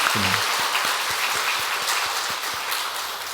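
A church congregation applauding together during a thanksgiving service, a dense, steady wash of many hands clapping that fills the room evenly and fades slightly toward the end.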